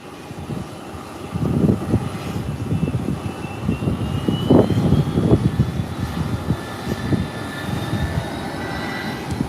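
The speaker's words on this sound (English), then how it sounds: "Now this one that was waiting for some time is now heading to the runway to prepare for takeoff." A commercial airliner taxiing toward the runway for takeoff at an airport, its engines giving a steady, fairly close rumbling drone with a whining tone, swelling gently midway and holding on, with no talk.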